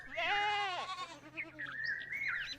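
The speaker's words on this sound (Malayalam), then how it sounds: "ഹാബീൽ തൻ്റെ സമ്പാദ്യത്തിലെ ഏറ്റവും നല്ല ആട്ടിൻകുട്ടിയെ അള്ളാഹുവിനു വേണ്ടി തിരഞ്ഞെടുത്തു." A lamb bleats in a quavering, wavering cry that rises and then falls away, followed by softer higher calls, close and clear with no talking.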